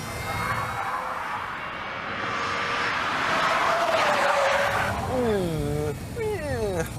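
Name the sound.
Jaguar S-Type R engine whine driving on Goodwood circuit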